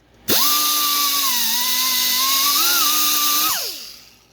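A power tool whines steadily at close range while taking rust buildup off brake parts during a brake job, its pitch dipping slightly under load and wavering before spinning down after about three seconds.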